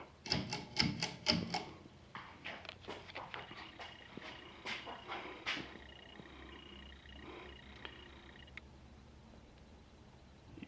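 A 52-inch polished brass Emerson 1895 series ceiling fan, pulled on low, starts with a quick series of chain and switch clicks, then the motor settles into a faint, even hum with scattered light ticks fading away.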